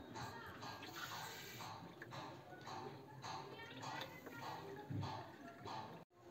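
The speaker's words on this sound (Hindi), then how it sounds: "अब इसमें 3 कप पानी डालकर इसके चाशनी बना लेंगे।" Three cups of water poured into a pot holding three cups of sugar to make syrup for moong dal halwa, giving a steady splashing pour over a constant hiss of kitchen noise and voice.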